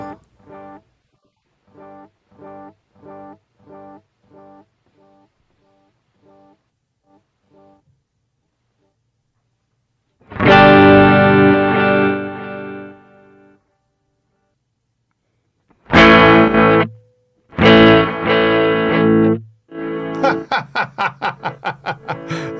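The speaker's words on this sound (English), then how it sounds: "Got to turn the echo on for this." Echo effect turned up high on an effects unit: a short repeating pattern of sound fading in regular echoes, then loud dense processed bursts with long decaying repeats, ending in a rapid rhythmic stutter of repeats.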